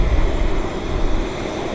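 A passenger airliner approaching Vancouver Airport gives a steady, loud broadband engine roar with heavy low rumble, continuous through the short stretch, with no voices.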